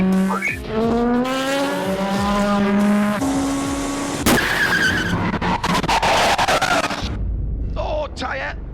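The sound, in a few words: race car tyre puncture and skid at Le Mans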